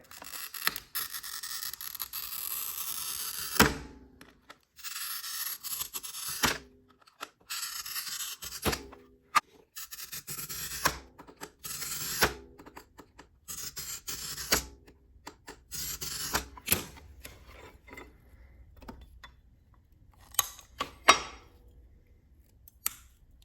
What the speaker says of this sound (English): I'm just going to be making straight cuts, and then if I need to curve it, I will break the glass